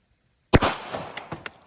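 A single sharp, loud gunshot from a 40 caliber pistol firing Critical Duty ammunition into a meat target outdoors, followed by a brief echo and a few faint clicks, with insects buzzing faintly before the shot.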